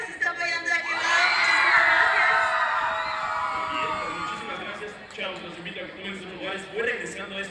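Supporters at a dance and choreography event burst into loud whooping and shouting cheers that swell and then fade into scattered yells and crowd voices.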